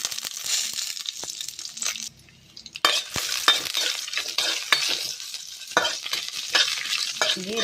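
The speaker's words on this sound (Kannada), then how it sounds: "ಕೊತ್ತಂಬರಿ ಸೊಪ್ಪುಲ ಪುದೀನ ಸೊಪ್ಪುಲ ಇಂದುಲ ನೆಕ್ ಒಟ್ಟಿಗೆ ಫ್ರೈ ಮನ್ಪುನಿ" Coriander and mint leaves frying together in oil give a busy sizzle with frequent spatula scrapes and metallic clinks. The sizzle briefly drops away near the middle, then returns loud and close.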